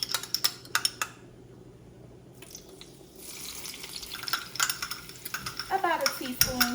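Minced garlic hits heated olive oil in a pan. A few clinks and light handling sounds come first, then a brief lull, then a broad, close sizzle that swells and crackles toward the end.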